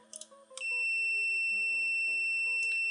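A Tooltop X6 dual-display clamp meter gives a few short clicks, then lets out a loud, steady, high-pitched beep that holds without a break to the end.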